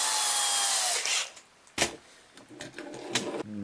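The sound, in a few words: power drill drilling hole in controller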